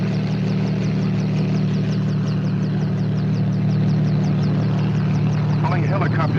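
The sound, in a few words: helicopter flying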